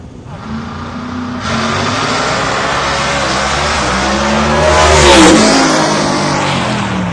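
A turbocharged, nitrous-assisted radial drag car at an outlaw racing event roars down the strip, the engine climbing loudly and sweeping past in a rising, then fading wail.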